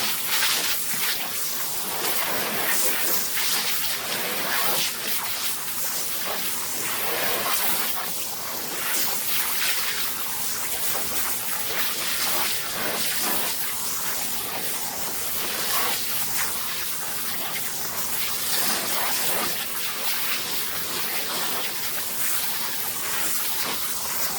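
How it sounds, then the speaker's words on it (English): A steady, hissing spray of water showers garden plants, continuous and close for the whole stretch, with no voices over it. "then I just knock them around with some water. Water. Just spray them."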